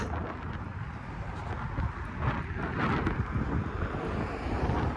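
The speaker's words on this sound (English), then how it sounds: "Oh, it's a little bit windy though." Wind buffets the microphone in a continuous low, rumbling roar along Enterprise Boulevard in Markham, near Unionville GO Station, steady and fairly loud throughout with no talking.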